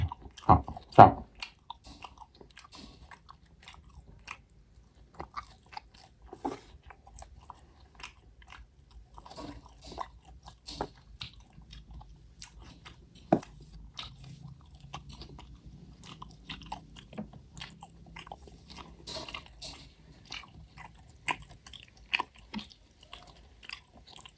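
Close, quiet chewing and crunching of grilled pork sausage flavored with lemongrass, irregular bites and mouth sounds continuing steadily with no talking.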